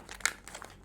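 Plastic packaging on a cup of ice being opened, a brief quiet crinkle with a sharp tearing rip near the start and a few small rustles after, no talk.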